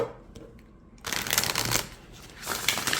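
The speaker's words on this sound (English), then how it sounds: "So you can riffle shuffle it" An oracle card deck with gilded edges is riffle shuffled up close. The cards give two crisp, fluttering bursts of rapid clicks, separated by a short quiet pause.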